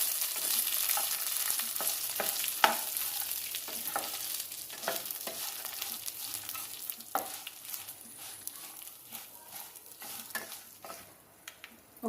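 Ingredients for radish chutney fry in a pan, crackling sizzle broken by repeated spatula scrapes and stirring knocks, gradually quietening toward the end with no talking.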